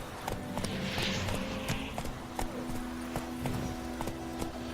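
Horse hooves clop rhythmically at a steady pace in The Witcher 3, moderately faint against a soft ambient game background.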